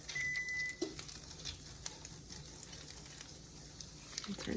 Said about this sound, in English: 3 tablespoons of butter and get that melted into the skillet